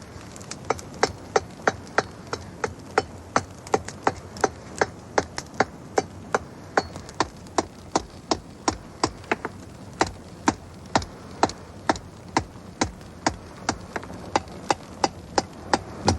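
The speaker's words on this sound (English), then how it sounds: "heating the bloom over and over again and repeatedly tapping out the slag." Hammer striking a heated iron bloom to knock out slag, a steady run of sharp, evenly spaced metallic taps, close and loud, continuing without talk.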